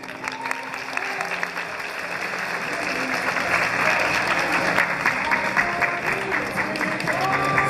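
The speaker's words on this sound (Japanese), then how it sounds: "皆様盛大な拍手でお送りください" Loud, sustained applause from the audience at the Miss & Mister NUBS 2014 contest as the participants leave the stage, building steadily in intensity and continuing throughout.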